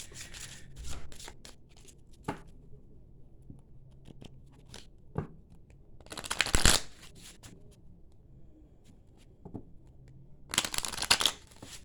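Tarot cards being shuffled and pulled, soft scattered flicks and taps followed by two louder riffling bursts, close and fairly quiet with no talking.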